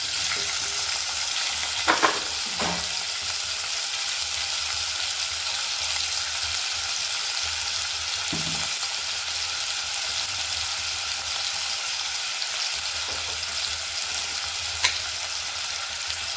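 Chopped tomato sizzling in hot oil with cumin seeds while cooking pav bhaji at home; a steady, even frying hiss runs throughout, broken by a few brief stirring clatters.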